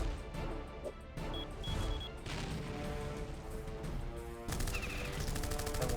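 Shotgun fire in the Battle Nations war game, loud bursts of gunfire with crashing impacts, a heavier rapid volley breaking out near the end.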